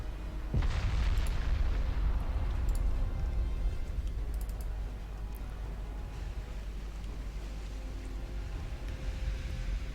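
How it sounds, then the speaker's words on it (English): A torpedo strikes a warship in the naval battle game Ultimate Admiral Dreadnoughts, giving one heavy deep boom that decays into a long low rumble over distant background noise. "That's another torpedo hit on the Conqueror"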